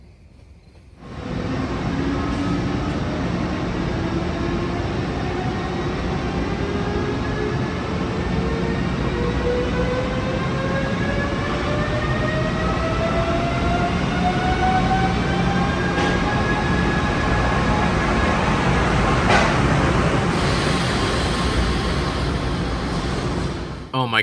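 A dual-mode locomotive-hauled train passes with a steady, loud rumble and a rising whine of traction motors, wheels rolling continuously over rails for over twenty seconds, close to the track.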